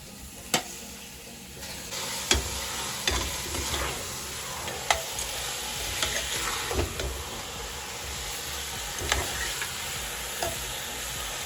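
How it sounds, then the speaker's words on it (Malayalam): Mutton with turmeric, garlic and oil is stirred in a hot pan, a steady sizzle and frying hiss broken by sharp scrapes and knocks of the spoon against the metal at irregular intervals. "മഞ്ഞപ്പൊടിയും വെളുത്തുള്ളിയും ഓയിലും ഇട്ടിട്ട് അങ്ങോട്ട് ഇളക്കിയെടുക്കുകയാണ്"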